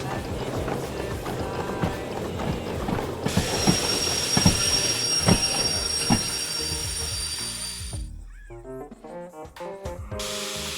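A steam locomotive runs along the track in the Derail Valley train game, a steady rumbling, clattering roll with rhythmic wheel knocks and a high whine, easing off toward the end.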